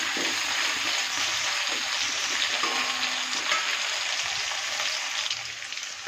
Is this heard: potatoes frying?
yes